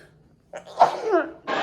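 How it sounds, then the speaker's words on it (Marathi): A single close, sharp sneeze bursts out after a brief quiet intake of breath, followed by a short rush of noise. "मला कंटिन्यू शिंका चालू आहे"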